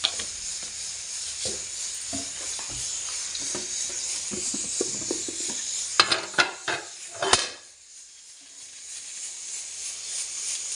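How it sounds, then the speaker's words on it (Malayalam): Mustard seeds splutter in hot oil in a heated pan, scattered sizzling crackles building to a burst of sharp pops before settling into a quieter hiss. "കടുക് പൊട്ടി വരുന്നുണ്ട്."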